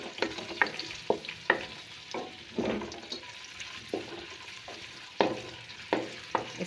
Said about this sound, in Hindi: घी गर्म हो रहा है, इसमें मैं थोड़ा सा प्याज डालूँगी